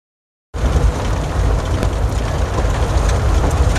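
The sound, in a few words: rain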